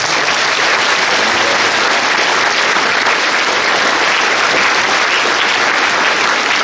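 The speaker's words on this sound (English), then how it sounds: "Let's give a round of applause." Sustained, loud applause from a school district audience fills the whole stretch as a dense, even wash of many hands clapping, with no break or voice standing out.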